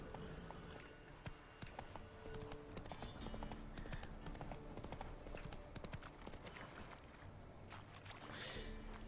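Horse hooves clip-clop steadily on the ground as a horse is ridden in The Witcher 3, a quiet, continuous rhythm of soft hoofbeats with faint jingling tack.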